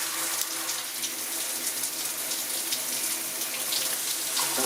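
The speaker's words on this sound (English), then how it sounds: "Okay, so we had regular shower in the middle, and this is water saver probably." Water sprays steadily from a Vikiciy shower head on its water-saver setting, a constant close hiss of spray hitting a surface with no talking.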